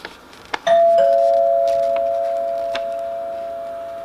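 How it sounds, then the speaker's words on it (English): After a couple of faint knocks, a single electronic doorbell chime rings out clearly and then slowly fades away. "someone rang the doorbell"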